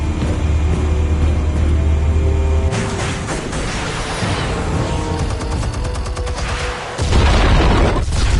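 Explosives detonate in the Batman Telltale video game, a heavy low rumble followed by a burst of crackling booms and rattling debris, then another deep blast near the end, loud and close.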